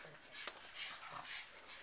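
Small dogs in a kennel whimpering and yipping softly, a string of faint high squeaks and whines at close range, with a voice talking over them.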